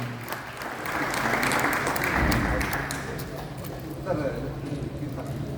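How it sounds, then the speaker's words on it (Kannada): An audience claps for a junior singing contestant awarded fourth place at a voice competition in Shivamogga, sustained applause swelling and fading over several seconds, with an announcer speaking over it. "ಅವರಿಗೆ ಒಮ್ಮೆ ಜೋರ ಚಪ್ಪಾಳೆ."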